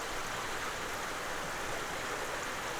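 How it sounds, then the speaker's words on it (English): A river flows in a steady, broad rush of water, an even hiss with no breaks, heard alone and fairly quiet. "At this time of year, the river is slowing down."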